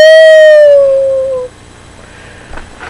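A pet dog lets out a loud, close howl that starts strong and slides downward in pitch for over a second, then fades into quiet room sound.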